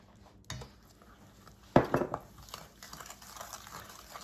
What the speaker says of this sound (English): And mix it until it's all combined.